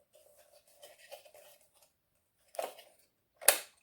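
Hella H4 headlight housing on a 240Z being worked into its mount, with light plastic rattling and scraping, then two sharp clicks near the end as it snaps into place, close and quiet.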